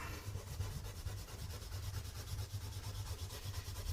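A rubber eraser scrubs pencil work off paper during a chrysanthemum drawing, making quiet, continuous rubbing strokes in a close, repetitive rhythm with no talking.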